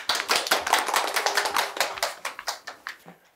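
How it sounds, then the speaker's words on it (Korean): Audience applause at a cooperative's prospective-member information session as a chairman is welcomed to the front, starting as a dense burst of clapping that thins to scattered, separate claps by the end. "큰 박수 부탁드립니다."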